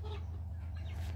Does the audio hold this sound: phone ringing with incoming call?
no